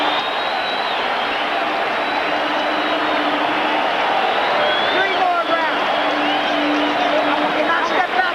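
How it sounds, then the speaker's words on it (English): A large boxing crowd stands, roars and applauds continuously, loud and sustained, with a commentator talking over the noise. "They're on their feet, standing and applauding both fighters."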